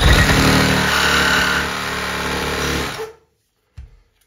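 A reciprocating saw cuts into a Roman tub faucet, a loud rapid chattering rasp of blade on metal that runs for about three seconds, then stops abruptly, followed by a short thud.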